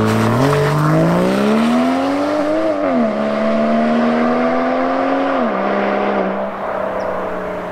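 A Volvo V60 Polestar's inline-six engine revs hard with the exhaust valves open, a loud, close, rising and falling howl that climbs, holds and dips across several seconds with no talking.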